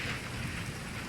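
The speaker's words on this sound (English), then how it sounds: "Oh no, it's raining." Steady rain falls in a Castlevania season 4 episode, a dense, even hiss of heavy rainfall that fills the whole moment with no voices.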